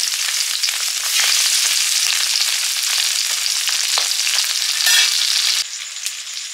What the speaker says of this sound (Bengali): ট্যাংরা মাছগুলো ভাজছি এবারে।